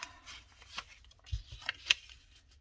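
Paper pieces for a craft kit are folded and handled, producing soft crinkles, light taps and a few crisp creases in quick, irregular succession at close range.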